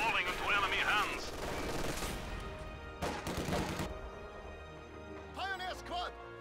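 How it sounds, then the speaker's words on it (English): MG42 machine gun suppressing conscripts in the strategy game Company of Heroes, sustained rattling bursts in the battle mix under a steady commentating voice, with a few louder sharp volleys. "MG42 suppressing these conscripts in the north, may be able to force a retreat"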